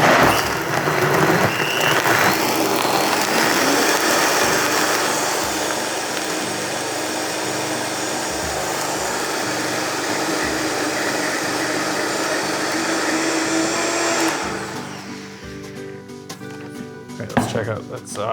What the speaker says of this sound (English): the beauty of a Vitamix is that you're gonna blend it really smooth